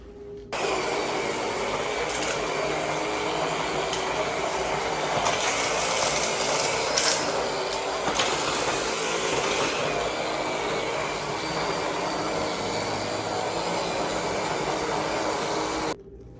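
A vacuum cleaner runs steadily at moderate volume with a continuous whine and rushing hiss, and occasional brief rattles as it moves across surfaces.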